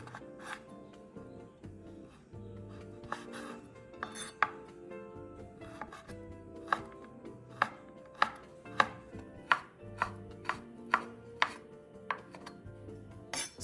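A knife chops Chinese sausage into small pieces on a cutting board, with sharp, rapid taps that start scattered then settle into a quick, steady rhythm, close and clear without talk.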